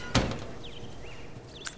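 A brief thunk of a door opening in The Last of Us, faint and quickly over, with a soft second knock at the end.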